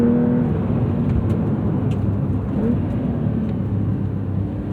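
A 2026 Porsche 911 Carrera T (992.2) with its turbocharged engine running in sport mode with sport exhaust, a loud, steady, throaty drone heard from inside the car that eases slightly over a few seconds, with no talk.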